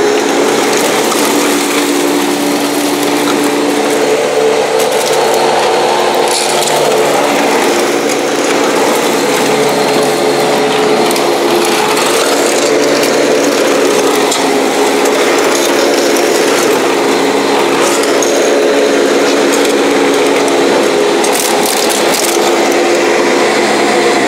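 A Panasonic Jet-Flo MC-5155 vacuum cleaner runs loud, close and steady with a constant high motor whine and airflow hiss, with no voices.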